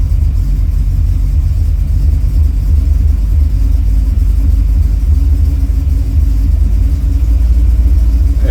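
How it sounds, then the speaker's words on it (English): A carbureted car engine fitted with computer-controlled fuel delivery idles close by, a loud, steady low rumble that keeps an even pulse throughout with no voices over it. "You should hear the engine idle come up."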